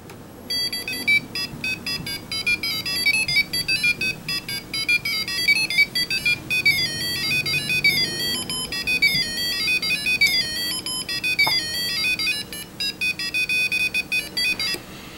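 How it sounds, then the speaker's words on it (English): An Arduino board's tone output plays the Super Mario video game theme as a fast, bright run of beeping square-wave notes that carries on for about fifteen seconds, loud and with no voices. "you're about to hear one of the most iconic video game tunes"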